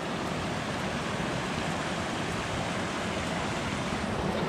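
A spring-fed stream beside a hiking trail on the Mestia to Ushguli trek rushes steadily, a dense, even wash of flowing water with no voices.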